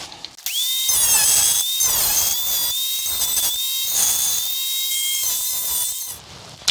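A high-speed power tool, like a die grinder or rotary cutter, notches the side pipe trim of a C3 Corvette near the header clamp bolt, whining loudly in several close bursts with short pauses between cuts.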